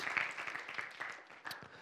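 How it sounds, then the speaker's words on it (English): Church congregation applauding during a sermon, a steady wash of many hands clapping at moderate distance, fairly even throughout with a brief swell near the end. "Let's give Jesus a round of applause for his saving power through the cross of Jesus"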